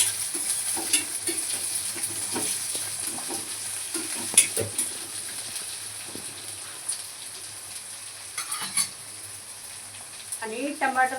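Sliced onions and curry leaves sizzle steadily in a hot pan for egg bhurji while a spoon stirs and scrapes through them, with a voice briefly heard near the end.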